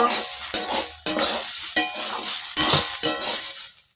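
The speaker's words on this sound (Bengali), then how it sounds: "আবারও খুলে দেখব একটুখানি নেড়েল দেব" A spoon stirs banana stem curry (thor ghonto) in a pan, scraping and clattering in bursts over a steady bright sizzle of frying, close and fairly loud.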